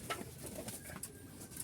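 Pigeons coo softly in a loft cage, faint low calls repeating alone without any talking.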